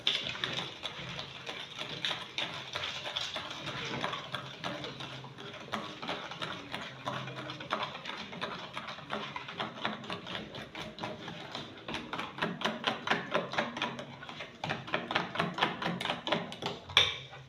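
A whisk beats eggs into chin chin dough in a bowl, making continuous fast, fairly quiet clicking and tapping strokes that grow more rhythmic toward the end.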